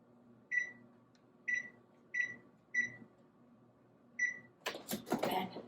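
An oven's control panel beeps as the temperature is lowered to 225, giving five short, bright electronic chirps at uneven intervals in a quiet kitchen, followed by a brief clatter of handling.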